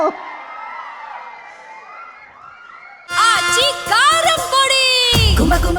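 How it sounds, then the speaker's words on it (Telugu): Crowd at a film success meet for K Ramp cheering and whooping, rising sharply about halfway through into loud shouting and clapping, with a faint murmur and voices before it. "బండ్ల గణేష్ గారికి ఒక్కసారి గట్టిగా చప్పట్లతో"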